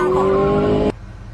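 A cartoon car speeds away with a loud, high engine whine rising in pitch for under a second, then cuts off sharply, leaving low rumbling background.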